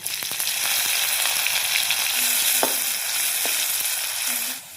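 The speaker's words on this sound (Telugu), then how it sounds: "ఒక పావడ నూనె పోసుకోవాలి ఒక చెంచా జీలకర్ర వేసుకోవాలి అచ్చిమిరపకాయలు ఇట్లా గుండ్రగా పోసి వేసుకోవాలి" Cumin seeds and green chillies fry in hot oil, a loud steady sizzle and crackle with a few faint utensil clinks, close and continuous.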